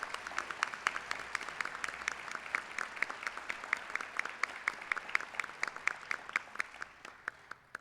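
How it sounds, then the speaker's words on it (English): Audience at a city State of the City address applauding the city employees, a thin, fairly quiet round of separate claps at a steady pace, slightly distant, fading toward the end. "I'd like you to give our city employees a round of applause."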